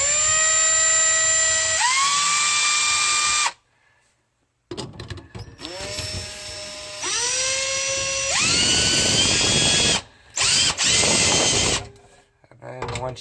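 Power driver snugging up garbage disposal mounting screws, whining motor bursts that rise in pitch as they spin up, several short runs separated by pauses and a brief silence, loud and close.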